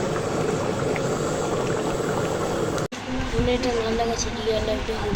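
Mutton (rezala-style goat meat) simmering and boiling in a cooking pot, a steady bubbling and hissing wash throughout with a brief cut midway, fairly close and continuous.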